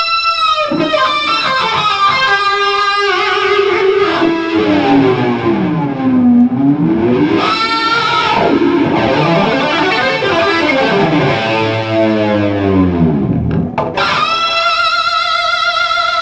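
Kawasaki racing motorcycle number 94, ridden by Christophe Guyot at the 2000 24 Hours of Le Mans endurance race, howls loudly at high revs, its pitch climbing and dropping through repeated gear changes as it passes close by.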